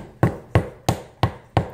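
Five sharp, evenly spaced hammer blows strike a dig-it toy to break it open, each a loud close thud with a quick decay and no voices between hits.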